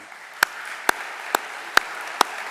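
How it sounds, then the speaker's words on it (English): Five sharp, evenly spaced single claps ring out at an award ceremony, a slow, sparse clapping rather than full applause, over a quiet room background. "So a round of applause for the IT Leadership Academy."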